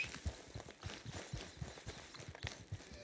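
A brown horse in the Red Dead Online video game walks nearby, its hooves landing in a soft, uneven clip-clop rhythm of muffled thuds at low volume.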